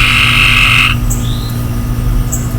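A loud, buzzing frog croak fills the first second, followed by faint chirps over a steady outdoor hum.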